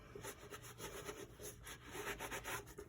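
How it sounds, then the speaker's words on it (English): A damp cloth wipes sawdust off a wooden box in rhythmic back-and-forth rubbing strokes, soft, close and steady with no talking. "So I'm taking a damp cloth and just wiping the sawdust away."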